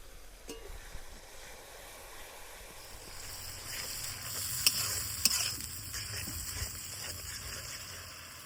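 Ground cumin, chilli powder, turmeric and a little salt fry with a splash of water in a pan, giving a steady soft sizzle with occasional scraping stirs, close and moderately quiet.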